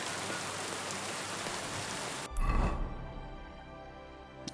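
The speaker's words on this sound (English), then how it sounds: "cleansing rain wash away the frustrations." Steady dense rain pours in the medieval world of the video game Kingdom Come Deliverance II, then a heavier rushing burst cuts in before the downpour continues more softly.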